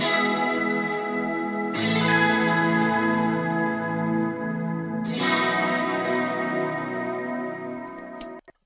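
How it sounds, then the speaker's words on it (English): Electric guitar played through chorus and other effects, sustained shimmering chords ringing in two long swells with a wide, washy modulated tone, loud and alone with no talking. "That's like some of my favorite guitar tonage"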